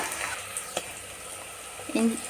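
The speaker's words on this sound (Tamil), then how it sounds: "நல்லா வதங்கட்டும். நல்லா செவந்து பொன்னிறமாக வரட்டும்." Onions and green chili sauté in a pan for egg biryani with a faint, low sizzle. A couple of sharp utensil taps and a brief bubbling burst cut through near the end.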